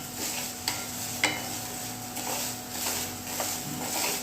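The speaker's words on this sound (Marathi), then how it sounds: "आता आपण हे भाजून घेऊ त्यांना छान" Urad dal roasts in a pan with a quiet, steady dry hiss, broken by a few sharp scrapes and taps of stirring.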